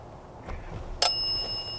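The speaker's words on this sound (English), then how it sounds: "Can you set the bell off for yes?" A single small bell rings out once, sharp and bright with a short lingering ring, against a quiet background at a campsite.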